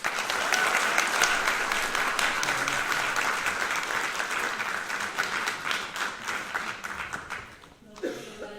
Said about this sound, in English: giving a big round of applause to Maria Leticia Gomez